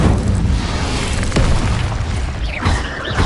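Burst of Incendio fire spell casting in a Harry Potter video game, a loud dense whooshing roar with booming low end and a couple of sharper flares near the end, no talk.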